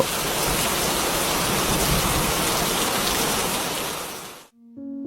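Heavy storm rain pours steadily and loudly in an animated village story, a dense broadband wash that cuts off abruptly near the end, leaving a faint tonal hum.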